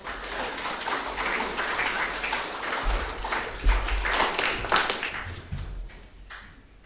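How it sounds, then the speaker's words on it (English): An audience at a Tonga press club media event gives a speaker a dense round of applause, steady clapping that swells and then gradually thins out. "Please, a round of applause for Honorable Dr. Isake Eke."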